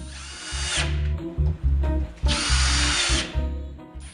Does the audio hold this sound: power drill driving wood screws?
yes